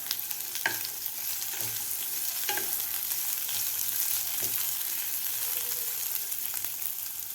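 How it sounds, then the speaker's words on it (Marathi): Thinly sliced onion frying in oil: a continuous hiss of sizzling oil with occasional light scrapes and taps of a spatula stirring the pan, steady and moderately close throughout. "तो घालून आपल्याला व्यवस्थित 2 मिनिट आपल्याला हे कांदा परतून घ्यायचा आहे"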